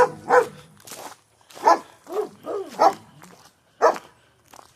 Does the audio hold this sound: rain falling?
no